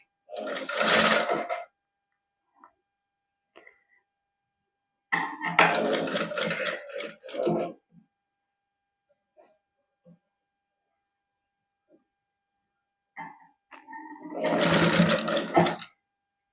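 A sewing machine stitches a cuffed sleeve in three separate bursts of fast, close whirring, each lasting a second or two, with near-silence and light handling taps in between.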